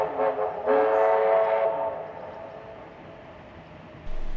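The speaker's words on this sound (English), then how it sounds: "The next train to arrive on platform 4 does not stop at this platform" A loco-hauled train runs through a New South Wales station platform without stopping, with a sustained horn blast up front, then a steady rumbling roar of wagons passing close by.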